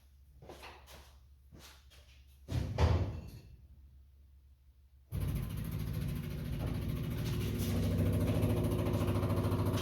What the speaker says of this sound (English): I'm gonna turn the switch on, and hopefully we hear the fuel pump turn on